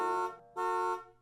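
Two long, loud blasts of a car horn close by, separated by a brief pause, the second trailing off.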